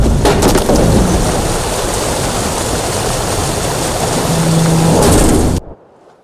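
A loud thunderstorm with pouring rain in the video game The Witcher 3: Wild Hunt, a thick, steady wash of rain with crackling thunder near the start. It rumbles on and then cuts off abruptly near the end, with no voices.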